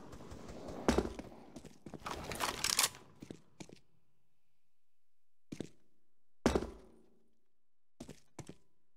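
A CS:GO flashbang grenade clatters as it is thrown and bounces, a burst of scraping thuds followed by several sharp, separate knocks spaced out between silent gaps.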